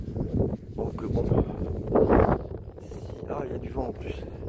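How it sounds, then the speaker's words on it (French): Wind gusts buffet the microphone outdoors on a walking trail under a blue sky, a rough, rumbling rush that swells and fades while someone talks over it. "Ah, il y a du vent en plus."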